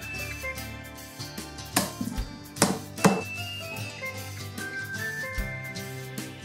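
A knife slicing two cloves of garlic and a few different types of mushrooms on a board for a vegan mushroom tart, with several sharp cuts scattered over a faint musical background.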